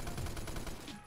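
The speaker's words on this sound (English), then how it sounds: "We're both shooting M60s." Rapid M60 machine gun bursts in the shooter game Phantom Forces, a fast rhythmic string of quiet, distant-sounding shots lasting about a second.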